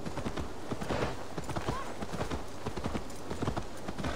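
Steady clip-clop of horse hooves at a quick, even rhythm, continuous and fairly close, over a busy background, in the video game Assassin's Creed: Valhalla.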